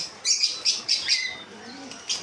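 Caged parrotlets and cockatiels in a bird shop chirp in sharp bright bursts, several quick tweets in a cluster and then a lone call a moment later, fairly close and with nobody talking.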